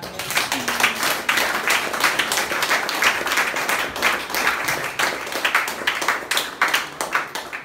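A church congregation breaks into sustained applause, dense steady clapping from many hands that keeps going for several seconds.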